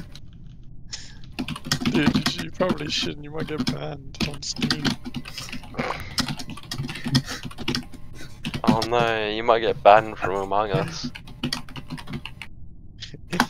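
Rapid clicky keystrokes on a computer keyboard during an online Among Us session, heard close and in bursts under casual talking from several voices throughout.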